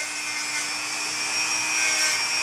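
A file rasps along the plastic edge of a Shengshou Megaminx puzzle piece, making a continuous close, bright scraping hiss that swells slightly toward the end, with no speech.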